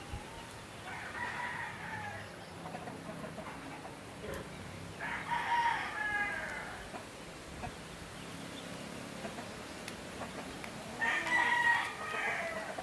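A rooster crows loudly three times, a couple of seconds apart, over the soft clucking of hens and their chicks in a rural yard, with no talk.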